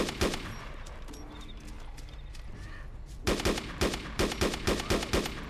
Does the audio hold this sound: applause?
no